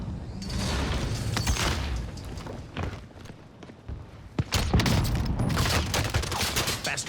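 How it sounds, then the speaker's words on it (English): Call of Duty gunfire from the Rebirth map erupts in loud, close bursts of rapid shots, easing off briefly midway and then returning in heavier volleys. "Bastards trying to shoot me"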